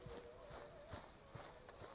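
Horse hooves clip-clop at a steady walking pace in Red Dead Redemption 2, a quiet, regular rhythm of soft hoof strikes under a constant low background hum.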